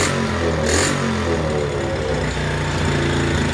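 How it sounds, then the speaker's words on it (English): A small motorized snow scooter engine idles slightly high with a steady, buzzing putter, close and continuous with no voices. "now she's idling good. Or decent, idling a little high"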